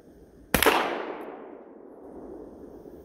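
A single shotgun blast of buckshot fired into cardboard at an outdoor range, a sharp loud crack that fades into a long decaying rumble over the next couple of seconds.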